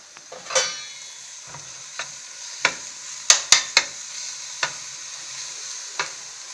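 Minced meat for bolognese lasagne frying over high heat in a pan, a soft sizzle broken by a series of sharp scraping stirs and clacks at irregular intervals.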